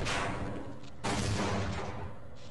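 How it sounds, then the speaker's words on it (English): Two heavy blasts from an explosion in Half-Life, the first fading into a rumbling decay before a second sharp, loud burst that rings out, with no talk over it. "Just a little explosion."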